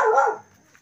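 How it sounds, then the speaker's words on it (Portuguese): A dog on a small farm gives a single loud, close bark that fades quickly into quiet. "Cuidado do cachorro aí."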